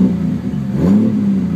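A Datsun Z with an RB30 engine idles with the clutch pedal pushed in, giving a steady low rumble with a whirring hum from the input shaft bearing, close and loud, with no talking.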